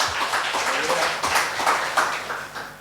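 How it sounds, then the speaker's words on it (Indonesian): A church congregation claps for the worship team during a Sunday service, a dense wash of applause that runs under a speaking voice and continues steadily through the moment. "beri tepuk tangan buat"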